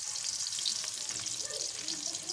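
Onion fries and browns in a kadai, giving a continuous, even high sizzle with faint stirring underneath, close and steady.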